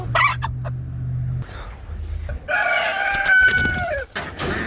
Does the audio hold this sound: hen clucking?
yes